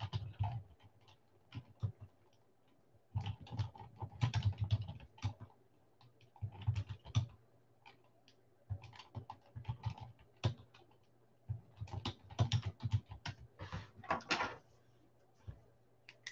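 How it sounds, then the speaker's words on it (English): Someone types on a computer keyboard at a sports card break, with quiet, scattered key clicks coming in irregular bursts and short pauses against a soft background hum. "I can type them if you guys want."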